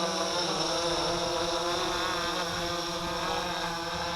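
An XK X500 quadcopter drone whines steadily with a high, multi-toned propeller buzz that stays loud and close throughout, mixed with gusty wind rumble on the microphone.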